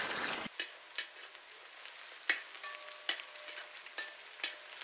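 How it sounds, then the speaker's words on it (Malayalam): Mustard seeds, shallots and green chillies fry in hot oil as a soft steady sizzle, with a series of evenly spaced spoon-scrapes against the pan, close but quiet, no talking. "കുറച്ച് കുച്ചുള്ളി ഇട്ടൊന്ന് ഇളക്കി കൊടുക്കണം."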